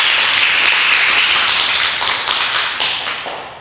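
Audience applause at a community event, a loud, close burst of many hands clapping that starts full and gradually thins and fades toward the end.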